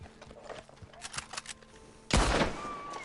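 Bolt-action rifle firing high-velocity rounds while riding a horse in a video game: scattered soft thumps and clatter, then one loud, sharp close shot with a long ringing tail near the end.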